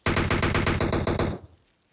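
Loud, close automatic gunfire in a shooter game, one sustained rapid burst of evenly spaced shots lasting over a second, then stopping abruptly with a quick fade.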